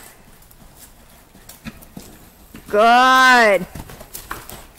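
Horse cantering during a riding lesson in an arena, its soft hoofbeats running steadily under an instructor's spoken encouragement, with a brief loud tonal call rising over them midway.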